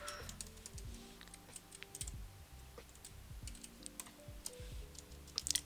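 Quiet, close computer keyboard typing of Python code, an irregular run of soft key clicks with brief pauses and a few sharper taps near the end.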